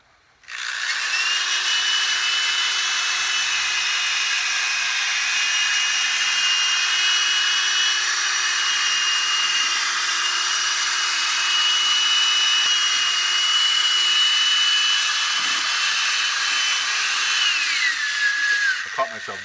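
A power drill with a wet pad polishing a car headlight whirs steadily for a long stretch, a continuous high hum with a faint rubbing, wet polishing texture, then winds down at the end.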